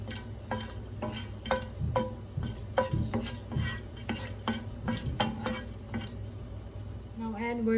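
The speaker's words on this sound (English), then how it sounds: "roast ilaichi a bit. Roast it until it changes its color" Cardamom pods roast in a pan, stirred steadily with a spoon that scrapes and taps the pan in regular strokes over a soft sizzle, close and alone.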